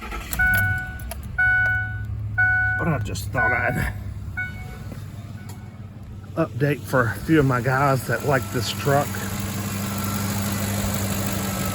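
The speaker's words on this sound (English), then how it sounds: "let's crank her up" A 2005 Ford F150 XLT king cab pickup cranks over and catches, then settles into a steady, close low idle, with someone talking over the start.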